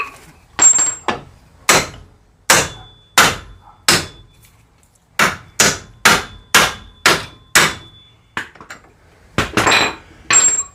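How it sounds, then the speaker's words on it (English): Sharp metallic hammer blows ring out in irregular bursts, about fifteen loud strikes driving two bolts out of a strut bracket on a 2010 Buick Lucerne, with no talking. "And take and drive these two bolts out of here,"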